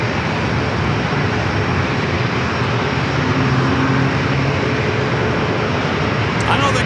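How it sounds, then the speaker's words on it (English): A Southwest Airlines Boeing 737-700 arriving at San Diego airport, its steady loud engine roar filling the whole stretch with a constant broadband rumble and faint tonal whine. "Next arrival is Southwest Flight 3698 coming from San Jose"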